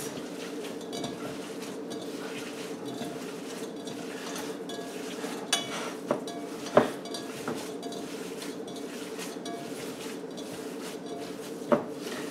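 Ground pork being mixed for meatballs in a kitchen, a steady stirring and squelching with occasional clinks of utensils against a bowl, close and continuous.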